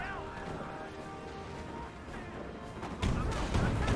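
Battle sounds from a Company of Heroes 1 match: dense crackling gunfire and booming explosions rolling together, with a heavy blast surging in near the end, while a commentator talks over it.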